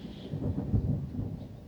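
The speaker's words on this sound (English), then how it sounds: "That thunder was loud." Heavy thunder rumbles indoors at a moderate distance, a deep, rolling boom that swells near the middle and slowly fades, with no voices over it.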